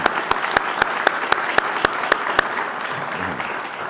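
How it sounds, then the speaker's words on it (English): Audience applause for students at a Pennsylvania talent pipeline signing day event in Pittsburgh, a steady wash of clapping with several sharp, evenly spaced claps standing out near the front, gradually thinning toward the end. "nice round of applause for the kids"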